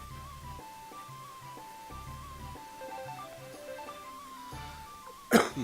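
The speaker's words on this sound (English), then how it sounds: "Got those coughs in me." A single sharp cough bursts out near the end after several seconds of quiet background with soft low thumps.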